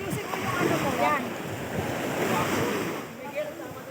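Choppy sea waves slosh and break close by in Osmeña, Pangasinan, with rushing wind noise over the microphone and irregular surges of water throughout.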